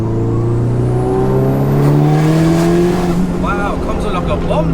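A 694bhp Mitsubishi Evo V engine pulls hard in fourth gear, its loud, steadily rising drone filling the clip, while voices talk underneath near the end.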